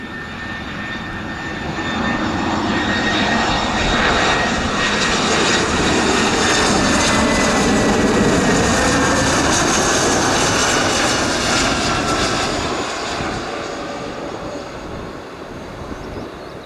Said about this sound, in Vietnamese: Chiếc A320 của hãng AirAsia đang di chuyển trên nền cỏ lau và hoa dại rất đẹp ở sân bay Nội Bài